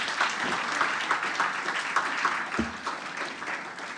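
A crowd applauds steadily at an International Women's Day gender equality event, continuous many-handed clapping at even loudness with a brief low thump midway and no clear speech.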